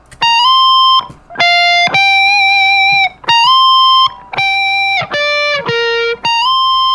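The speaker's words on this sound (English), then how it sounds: "this is the original guitars that he had sent me that sound like this" A loud, saturated, dry unprocessed electric guitar recording plays sustained chords in short bursts, each held about a second with brief gaps, bright and buzzy with no other instruments.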